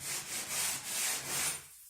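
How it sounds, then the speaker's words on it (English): Sanding sponges, one in each hand, rub flaky glue off a wooden ceiling in repeated rhythmic strokes, close and steady, fading out at the end; no voices. "And then to get the flaky bits off the ceiling, sanding sponges."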